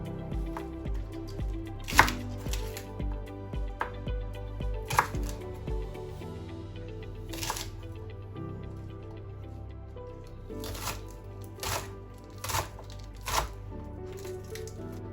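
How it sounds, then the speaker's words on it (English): A knife chops spring onions on a board for a spicy Korean seafood noodle soup, a handful of sharp, separate cuts spaced unevenly over soft background music. "Next, spring onions. We're gonna cut the white bit"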